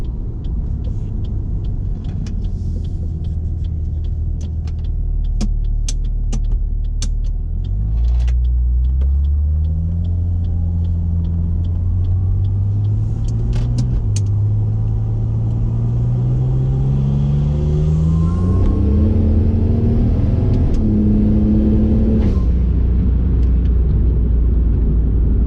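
A Ford XR6 Turbo with a boost leak drives along. Its engine rumbles steadily and climbs through several gears, with pitch rising and dropping at each shift, loud and close from inside the car.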